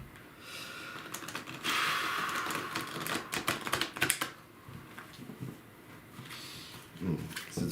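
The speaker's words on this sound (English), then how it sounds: "So every time I shuffle, I listen to the cards" Tarot cards shuffled by hand in a quiet room, giving dense riffling and flicking bursts with soft taps, loudest in the first half and then easing into lighter intermittent shuffles.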